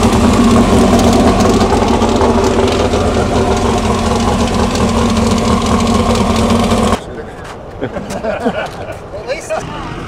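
A twin-turbo 522 cubic inch Hemi in an AA gas coupe at Bonneville runs loud and steady with a dense, rough idle, then cuts abruptly to quieter, irregular engine sputters and background noise.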